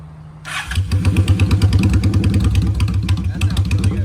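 A Honda Shadow motorcycle fitted with a new aftermarket exhaust starts up and settles into a loud, close, lumpy idle with an uneven, throbbing rhythm.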